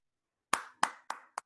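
Four sharp hand claps to welcome a guest at a webinar, close and unevenly spaced over about a second, with silence before them.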